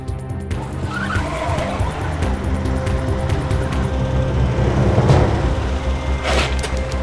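A car turning sharply with tires skidding and squealing, a continuous engine drone underneath and a louder screech near the end, with no voices.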